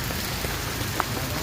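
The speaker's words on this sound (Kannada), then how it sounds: "ಬೆಂಗಳೂರಲ್ಲಿ ಸಿಕ್ಕಾಪಟ್ಟೆ ಮಳೆ ಬರ್ತೈತೆ" Heavy rain pours down in Bengaluru as a dense, even hiss of drops hitting surfaces, loud and unbroken, with one slightly sharper drop standing out and no voices.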